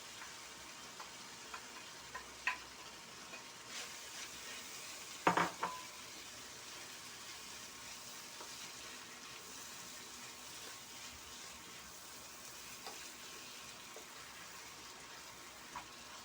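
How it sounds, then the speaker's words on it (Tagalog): Ham and hotdog pieces are stirred in a pan for white sauce penne pasta. There is a soft continuous sizzle with occasional clinks and scrapes of the utensil, including a sharper cluster of knocks partway through. "Add na natin yung ating ham and hotdog. Mix na ito"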